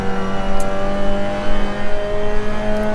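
A Mazda MX5 Cup Miata engine drones steadily in Assetto Corsa, a close, loud, sustained engine tone with a slight rise in pitch and no voices.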